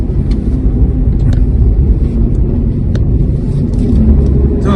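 Loud, continuous road rumble of a car driving between Kochi and Kottayam in Kerala, with steady engine and tire noise filling the whole stretch.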